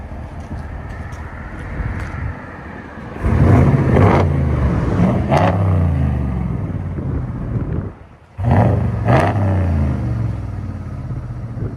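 A RAM truck's 5.7L HEMI V8 with a Black Widow exhaust and rear resonators still fitted gives a deep, steady rumble that swells louder as the truck backs out, drops briefly, then resumes, with some wind noise.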